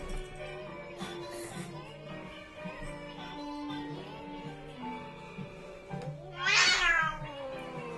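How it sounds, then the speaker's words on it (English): Cats meow in the room during a Rayman Origins game session. Several drawn-out meows rise over faint game music, and one louder, strained cry comes near the end. "Cats are jealous that we're not giving them any attention."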